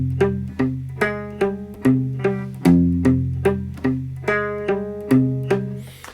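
Electric guitar chugs through a power chord riff, each strum sharp and decaying, repeating steadily and fairly loud.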